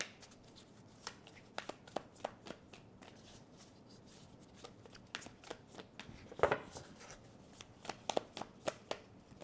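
Tarot cards are shuffled and drawn from the deck, giving crisp riffling clicks and taps in irregular bursts, close and fairly quiet, with one denser flurry of snapping near the middle.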